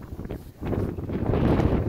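Strong wind gusts outdoors at a fence-building site, buffeting the microphone with a rough, rushing roar that swells after a brief lull.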